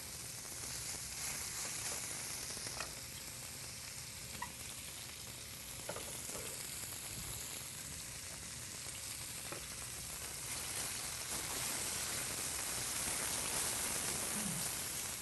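Turkey medallions sear in a hot pan with a dense, steady sizzle like light rain, close and continuous, with occasional soft pops and no talking.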